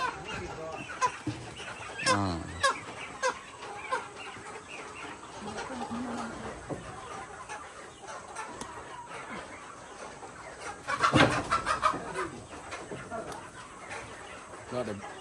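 Chickens cluck and squawk near and far at a rural longhouse poultry-selling project, busy overlapping calls rising in a louder flurry near the end, with people talking throughout.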